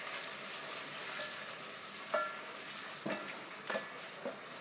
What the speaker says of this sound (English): I'll add my tomato and I'll let it cook.